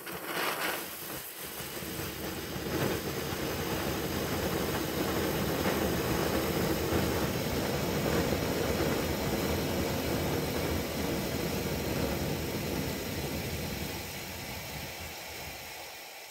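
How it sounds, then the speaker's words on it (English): A firelance powder charge burns with a steady, loud roaring hiss that holds for about thirteen seconds and then tapers off, with no talk over it. "I've already burned one of these charges once, and I'm just trying it again to confirm."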